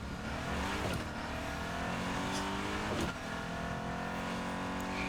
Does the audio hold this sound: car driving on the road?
yes